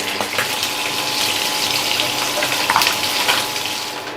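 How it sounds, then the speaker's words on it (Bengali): Katla fish heads fry in hot oil with a loud, continuous, dense crackling sizzle that holds steady throughout and has no speech over it. "মাছের মাথাগুলোকে কিন্তু খুব ভালো করে লাল লাল করে ভেজে নিতে হবে।"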